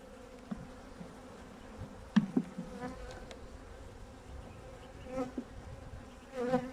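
Honey bees buzz around an opened hive during a pre-winter beekeeping inspection, a low steady hum with occasional louder close passes and a few clunks of hive parts.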